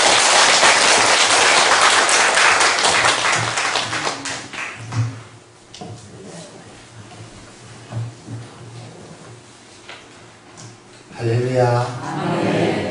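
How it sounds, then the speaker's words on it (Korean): A church congregation claps loudly to welcome an elder to the pulpit, a dense burst of applause that thins out, followed by someone speaking with room echo and more brief clapping near the end. "우리 박수로 한번 환영해 주십시오."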